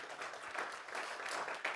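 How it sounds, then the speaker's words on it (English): Conference audience applauding on a main stage, a brief, dense patter of clapping at moderate level with no talk over it. "One more round of applause, if you don't mind."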